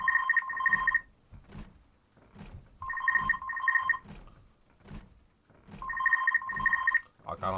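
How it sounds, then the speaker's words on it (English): Telephone ringing in the video game Project Zomboid, three clear bursts of rapid electronic double rings with pauses between them, accompanied by soft thuds and footsteps. "There is nothing in here, but the phone's ringing."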